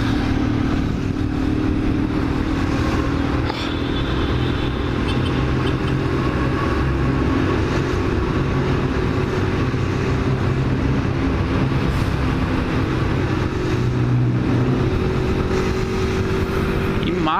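A small, economical motorcycle climbs the Rodovia dos Imigrantes highway up the serra, its engine droning steadily under loud wind roar and passing traffic for the whole stretch.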